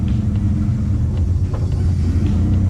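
Twin-engine Mazda MX3 drag car idling with a heavy, steady low rumble, close and continuous throughout with no talk.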